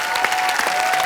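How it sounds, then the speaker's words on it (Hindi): A studio audience at a television comedy show claps briskly in a short, even burst, with a steady sustained tone running beneath the clapping. "अक्षय बाजी और हुमा के लिए जोरदार तालियां, और हमारे साथी कलाकारों के लिए जोरदार तालियां।"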